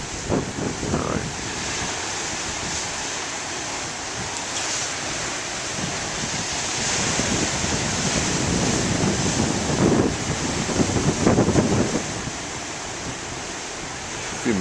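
Moderate ocean waves break on the shore, a steady roar of surf mixed with heavy wind buffeting the microphone, swelling louder for a stretch midway before easing back.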